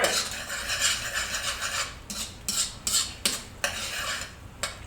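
A maple syrup garlic sauce cooks down in a pan while a utensil scrapes and stirs it in quick, uneven strokes over a soft sizzle, close by and with no one talking.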